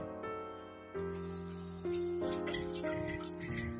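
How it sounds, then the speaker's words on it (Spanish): Water runs from a kitchen tap into a pot, a steady gush whose ringing tone shifts and climbs as the pot fills, loud and close with no talk. "ahora he llenado la olla de un poquito de agua"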